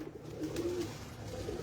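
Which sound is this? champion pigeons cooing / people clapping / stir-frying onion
champion pigeons cooing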